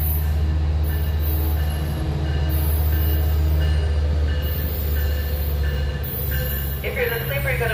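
Train at Fullerton station, a steady loud rumble of rolling railcars with intermittent high metallic wheel squeal pulsing over the top throughout, close and continuous.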